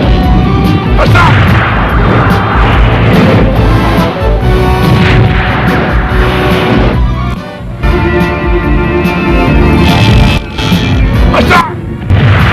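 Heavy fire-cannon booms from warships on a river roll out one after another amid loud animated battle noise and dramatic music, with shouting voices mixed in.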